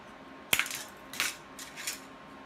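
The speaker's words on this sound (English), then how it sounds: "What we need to do now is trim off that handle." Hard plastic spoon handle being cut off, a sharp snap followed by a few lighter clicks and small crackling taps, close and fairly quiet.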